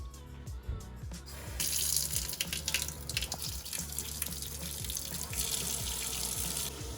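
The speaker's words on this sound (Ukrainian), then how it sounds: "Давай тоді включимо воду." A kitchen sink tap runs steadily, water splashing into the basin at close range throughout, while a food waste disposer is being installed under it; no one speaks.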